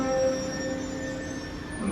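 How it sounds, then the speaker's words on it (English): An underground train at Embankment station on London's Northern Line platform, a steady low rumble with faint high metallic whine from the wheels, continuous and moderately distant, with no talk. "There's another train."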